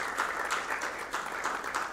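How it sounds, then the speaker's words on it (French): Audience applause for a panelist at a conference on the extraverted and informal economy, a steady, dense clapping from a crowd that holds an even level throughout with no voices over it. "Sous vos applaudissements, s'il vous plaît."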